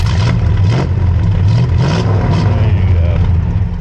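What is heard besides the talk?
1964 Studebaker Daytona R2 Super Lark engine revving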